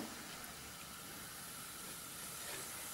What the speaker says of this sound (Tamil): இப்போ சோம்பும் மிளகும் போட்டு தாளிச்சுக்குவோம்